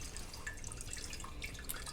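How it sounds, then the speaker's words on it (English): Tap water runs and drips faintly over cyanotype print paper being rinsed in a sink, a soft continuous splashing hiss with scattered droplet ticks. "So I will put under running water"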